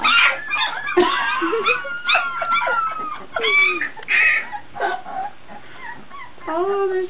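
Several puppies yipping, whimpering and barking in high-pitched overlapping bursts, close and fairly loud, continuing throughout.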